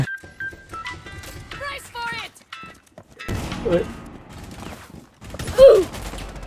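Rapid bursts of gunfire with electronic tones in Rainbow Six, followed by louder shots and effects as a voice talks excitedly in Thai over the action.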